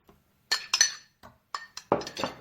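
A utensil clinks and scrapes against a bowl as cake batter with added cocoa is stirred, several sharp separate taps followed by a quick cluster of scraping strokes, close and clear with no talking.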